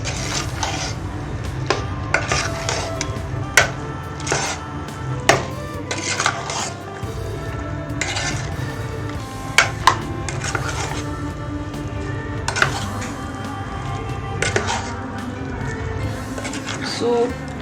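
A spoon scrapes and clatters in a pot as biryani rice is mixed with salt, a steady run of knocks and rubbing sounds with occasional louder clanks, under a person talking.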